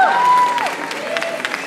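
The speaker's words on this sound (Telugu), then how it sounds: "ఒక్కసారి గట్టిగా చప్పట్లు కొట్టాలండి నా కోసం" At a Diwali stage event, an audience breaks into brief applause, a short burst of clapping from the crowd.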